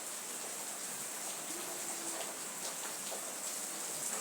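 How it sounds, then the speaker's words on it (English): A soft, even wash of evening rain falls through trees on a walk, a steady hiss with faint scattered drips and no voices. "the rain is coming over and the breeze is blowing"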